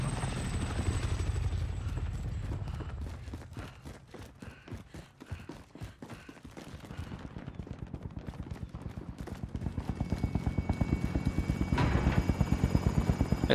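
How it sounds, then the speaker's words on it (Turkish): A helicopter arrives in Call of Duty Warzone, its rotor thumping in a fast steady rhythm that grows louder and closer, with faint gunfire mixed in. "Helikopter geliyor."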